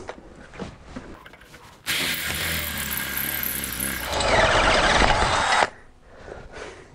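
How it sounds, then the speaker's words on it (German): A step drill bit cuts through the metal fuel tank of a Simson SR2 motorcycle in a long, loud, steady grinding whine that shifts harsher midway, then stops, leaving quiet room noise. "Dann machen wir jetzt mal weit, weiter mit dem Stufenbohrer."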